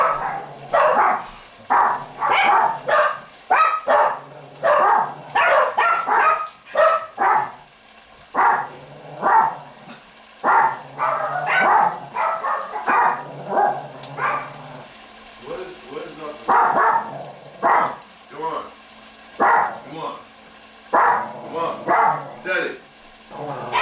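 Two or more dogs barking in a home kitchen during cooking, a dense run of sharp, loud barks and yips with a few whimpers, nearly continuous and close, with someone talking in between.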